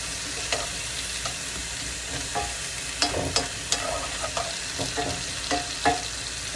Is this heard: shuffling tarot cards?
no